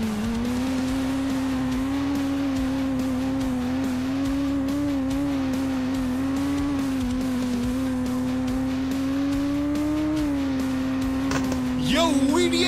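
Motorbike engine in the mobile racing game GT Moto Bike Racing, a steady droning whine held at near-constant pitch for the whole run, rising slightly before a brief burst of crashing noise at the end.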